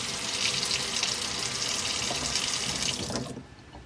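Hot water runs steadily from a tap into a sink in a West Virginia barndominium during a January freeze, a loud continuous close splash that stops abruptly near the end.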